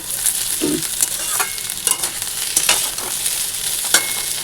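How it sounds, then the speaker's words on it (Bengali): Thick-cut potatoes fry in oil reused from frying papad the day before, giving a steady close sizzle with occasional scraping stirs in the pan. "এই তেলটা দিয়ে এই যে আলু ভাজা বসিয়ে দিয়েছি"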